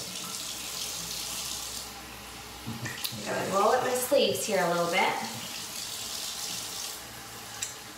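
Warm water runs from a sink tap in a steady, close rush that swells in the middle and then eases, while a person talks over it.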